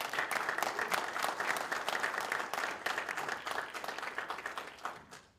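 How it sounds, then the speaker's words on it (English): A graduation audience applauds steadily, dense clapping holding for several seconds before tapering off at the end. "Let's give her a big round of applause."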